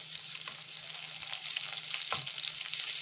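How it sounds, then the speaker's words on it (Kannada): Garlic and ginger frying in a pan for cheese pasta, giving a steady soft sizzle with a few light stirring knocks, close and fairly quiet, with no one talking. "ಬೆಳ್ಳುಳ್ಳಿ ಶುಂಠಿ ಹಾಕ್ಕೊಳ್ಳೋಣ ಹಾಕ್ಕೊಂಡು ಒಂದೆರಡು ನಿಮಿಷ ನಾವು ಫ್ರೈ ಮಾಡೋಣ"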